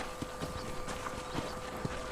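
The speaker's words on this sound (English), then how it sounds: "My horse just walking past." A horse's hooves clip-clop at a walk in the video game Red Dead Redemption, faint, regular steps under a hazy background ambience.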